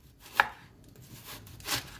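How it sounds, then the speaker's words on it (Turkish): Knife chopping purple cabbage finely on a board: a few sharp, separate cuts, close and fairly quiet, with pauses between them and no talk. "Mor lahanayı doğrayabildiğiniz kadar ince doğruyoruz arkadaşlar."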